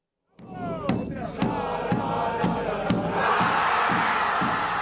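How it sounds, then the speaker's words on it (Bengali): Spanish football fans roar and celebrate after a World Cup semifinal win at a Dallas stadium, a dense, steady crowd noise with rhythmic thumping beats and chants swelling louder partway through. "এমন সাফল্যের পর বাঁধ ভাঙা উল্লাসে মেতে ওঠেন স্প্যানিশ সমর্থকরা"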